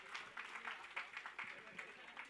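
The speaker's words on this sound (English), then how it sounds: "Big round of applause for the team from Nasik," Applause from an audience at a hackathon grand final for a winning team, sparse scattered claps at a distance, faint and thin, with no voices over them.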